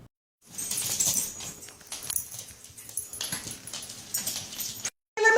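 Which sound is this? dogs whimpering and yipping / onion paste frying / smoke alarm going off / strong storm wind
dogs whimpering and yipping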